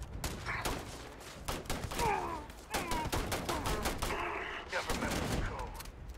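Rapid bursts of gunfire in the sci-fi video game Starfield, loud and repeated shots crowding together in a frantic firefight, with voices shouting over the shooting.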